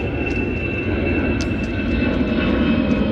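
A steady, broad engine roar from airplanes passing overhead, with faint birdsong chirping lightly above it.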